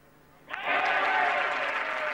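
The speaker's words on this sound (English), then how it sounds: "The cheer tells it all" A golf crowd erupts in cheers and applause after Seve Ballesteros birdies the 15th hole at a European Tour event, a sudden loud roar that swells and holds steady, with no talk over it.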